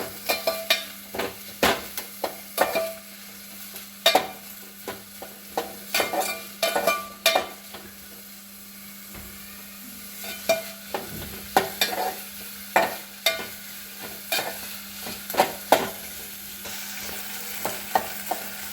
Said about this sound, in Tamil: நல்லா கோல்டன் ப்ரௌன் வர வரைக்கும் நல்லா மிக்ஸ் பண்ணிகிட்டே இருக்கணும்.